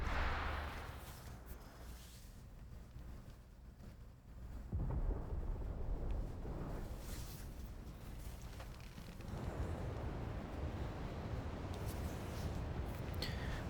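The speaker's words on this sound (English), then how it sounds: "Sounds like thunder." Rolling thunder in the video game Final Fantasy XVI, a broad low rumble that swells and fades across the stretch with a sharper crack midway, steady and fairly loud.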